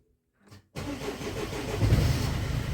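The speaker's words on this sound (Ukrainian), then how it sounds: "Так, пробуємо заводимо машину." A Mercedes Vito 638 van engine cranks briefly and then catches, settling into a loud, close, rough diesel-style running that builds slightly in level, with no talk over it.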